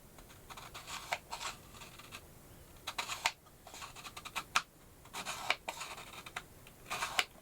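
A worn, scratchy variable neutral density lens filter ring being turned, giving faint gritty scraping and clicking in short uneven bursts, close but quiet, with no talking.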